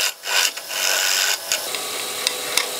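A turning tool cuts an Australian hardwood platter spinning on a lathe, giving a close, rough hissing scrape in uneven strokes with brief pauses between passes.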